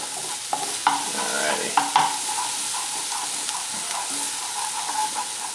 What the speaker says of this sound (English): as this is cooking away, sauteing and getting a little bit soft